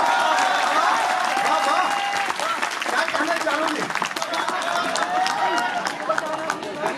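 An audience applauds at a Hindi kavi sammelan poetry recital, with dense, steady clapping filling the whole stretch while a voice carries on over it.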